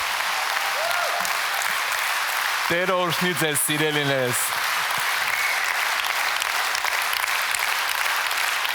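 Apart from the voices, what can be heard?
congregation clapping loudly for the Lord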